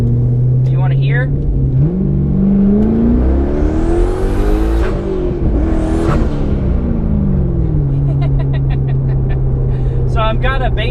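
Twin turbo Corvette engine running at about 5 psi of boost, idling close by, then revving up in a rising and falling sweep with turbo whoosh, dropping back to a steady idle.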